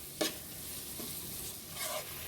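Tomato masala with chopped tomato and spices stirred in a frying pan, a soft continuous sizzle broken by a few light scraping strokes of the spoon, fairly quiet and close.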